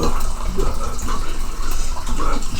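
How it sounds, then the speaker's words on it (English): Water is poured into a container for an egg-float kitchen demonstration, a steady, loud splashing gush that runs without a break throughout. "You saw me add the water."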